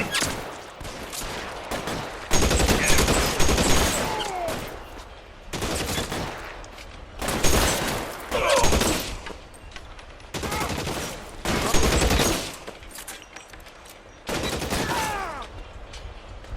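Dense bursts of gunfire from a shootout in L.A. Noire, with rapid volleys of shots in several loud clusters separated by short lulls, sustained over many seconds.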